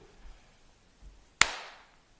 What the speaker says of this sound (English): Okay, clap again.